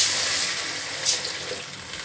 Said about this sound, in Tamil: இப்போ இந்த ஸ்டேஜ் வதங்கினோன்னா நம்ம தேவையான அளவு தண்ணி போட்டு ஊற்றிக்கிறோம்.